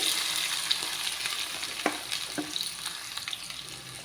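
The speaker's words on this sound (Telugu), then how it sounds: "ఇందులోనండి జీరా కూడా వేసుకోవాలి ఆవాలు కూడా వేసుకోవాలండి కట్ చేసుకున్న ఉల్లిగడ్డలు కూడా వేసేసుకోవాలి" Cumin, mustard seeds and chopped onions fry in hot oil in a pan for an egg curry, giving a steady close sizzle with light stirring clinks, and no one talks.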